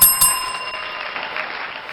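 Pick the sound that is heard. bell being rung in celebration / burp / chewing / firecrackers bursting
bell being rung in celebration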